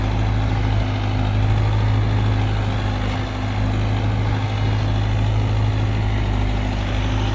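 A Mahindra 585 tractor labours through deep, waterlogged mud in a field, its diesel engine droning loud and steady with a constant low hum and slight dips in pitch, heard close with no talking.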